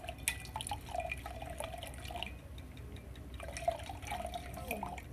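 Base solution is poured into a phenolphthalein indicator during a pH classroom demonstration, a faint, quiet trickle with small drip-like splashes over low background hum.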